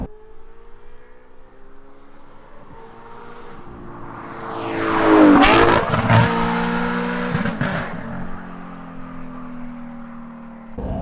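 Audi R8 supercar with a modified exhaust accelerating hard, engine note rising to a loud roaring peak as it passes close by, then settling into a steady rumble.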